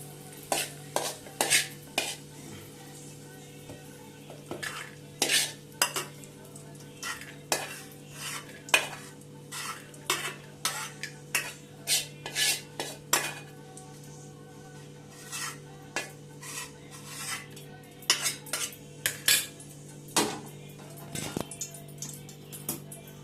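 Cashews and raisins being stirred in a pan, a spoon striking and scraping the metal in repeated sharp bursts of uneven rhythm over a low hum, close and clear with no speech.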